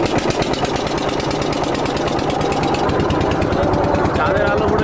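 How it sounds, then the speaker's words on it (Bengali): A fishing boat engine fires up on a Sundarbans river at night, settling into a loud, steady, rapid chugging throb that runs continuously close by with no talk over it. "এবারে ইঞ্জিন স্টার্ট দেওয়া হবে।"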